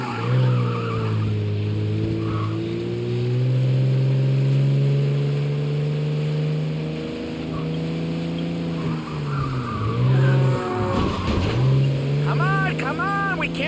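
Car engine in a chase in the video game Mafia: Definitive Edition, a steady droning hum that rises and falls, with skidding tire squeals and bumps near the end, under in-game dialogue.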